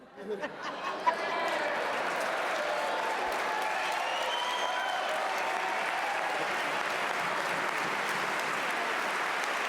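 Legislators and guests in the Pennsylvania legislature chamber applaud during the governor's 2025 budget address, a loud, sustained, dense wash of clapping from a large room that builds quickly and holds steady for several seconds, with faint crowd murmur.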